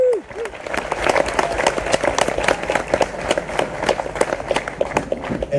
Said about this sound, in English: So a big round of applause for yourself.